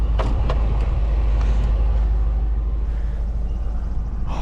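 A 2004 Land Rover Discovery II with its 4.6-liter V8 droning steadily while driving, a deep, constant low rumble with road noise from inside the cabin, no talking.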